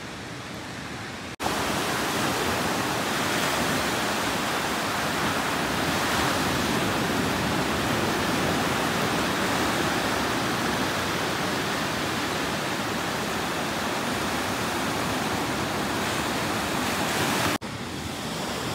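Steady, continuous surf of sea waves washing onto a quiet, uncrowded beach in Devgad, Konkan, a broad unbroken roar that holds evenly for the whole stretch with no voices.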